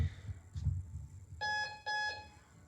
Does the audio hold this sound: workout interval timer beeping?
yes